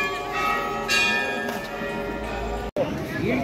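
Temple bells ring inside a busy Hindu temple, a bright sustained clang with a fresh strike partway through and lingering shimmer, set against a steady crowd murmur and voices.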